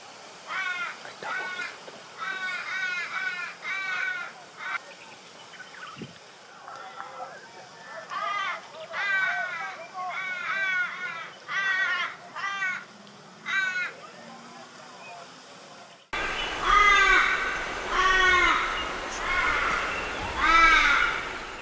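Torresian crows cawing beside kangaroo roadkill on an Australian roadside, repeated harsh nasal caw series in bursts, with a louder, closer run of calls near the end.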